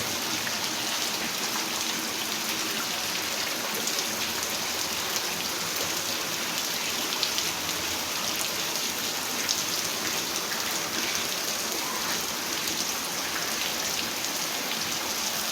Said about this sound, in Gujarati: વરસાદ હારા મારો આવે છે આજ મિત્રો